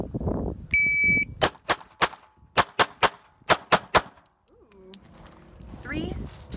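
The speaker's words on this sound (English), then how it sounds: "Got the Glock 43 combat carry that I'm gonna shoot for you today." A timer beep, then a rapid string of about nine sharp pistol shots from a Glock 43 combat carry, close and loud, followed by a chime and people talking.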